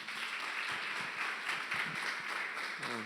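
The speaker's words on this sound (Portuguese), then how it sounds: "Uma salva de palmas para o Senhor." A church congregation claps during a family worship service, a steady wash of applause throughout with a voice briefly heard near the end.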